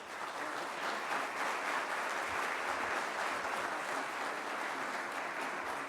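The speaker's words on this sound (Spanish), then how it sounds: "le brindamos un fuerte aplauso" Steady, fairly distant applause from a lecture audience fills the hall after a talk on health professions, an even wash of many hands clapping without pause and no speech over it.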